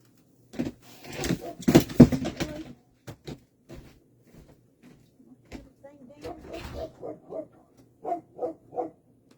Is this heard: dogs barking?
yes